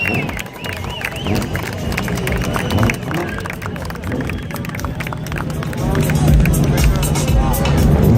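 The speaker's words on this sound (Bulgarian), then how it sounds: "Живееме да чуеме вашите овации" A dense crowd at a drift championship event in Sofia cheers and applauds without pause, a broad roar of clapping and shouting that swells louder toward the end, with engine noise mixed in.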